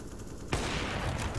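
Sudden burst of gunfire in a professional Counter-Strike match, a sharp onset followed by a sustained rattling, dense volley of shots at close range.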